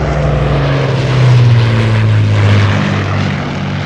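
A propeller airplane drones steadily overhead, its engine hum swelling briefly then holding as it moves off, loud and alone with no voices.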